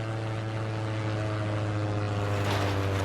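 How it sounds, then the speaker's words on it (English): In the Sleeper demo video game, a plane passes overhead with a steady, loud droning engine hum and a low propeller-like tone, building slightly toward the end with no voices. "A plane without any freaking"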